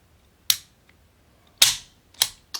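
A Sarsilmaz CM9 Gen 2 pistol trigger clicks sharply three or four times at uneven intervals, crisp and close in an otherwise quiet room.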